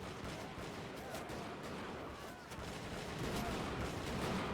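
Musket volleys ring out across a battlefield in Bannerlord's Europe 1700 setting as French troops run into a British firing line, a dense continuous crackle of gunfire that swells louder near the end with no talk over it.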